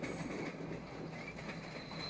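Freight railroad cars roll through an Erie Lackawanna rail yard, giving a steady rumbling clatter with a faint metallic squeal that runs unbroken and moderately loud throughout.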